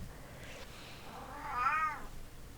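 A pet cat lets out one rising and falling meow, faint and close, in a quiet indoor room.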